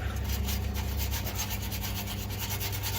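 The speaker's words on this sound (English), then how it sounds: "Take the wire brush and clean up as much of that rust as we can." Steady, continuous scraping and rubbing, a coarse wire brush scrubbing rust off a car muffler, running without pause at close range.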